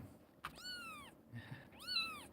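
A kitten meows twice, two rising-then-falling high cries separated by a short pause, close and fairly quiet, with a soft tap just before.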